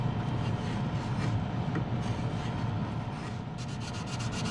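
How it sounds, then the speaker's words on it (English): Continuous rasping of sandpaper rubbed back and forth on a small square wooden plate, steady and close, with no talking. "And then more sanding."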